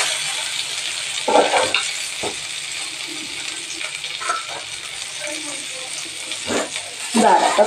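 Food frying in a pan sizzles steadily while someone talks over it, with occasional clinks of utensils against the pan.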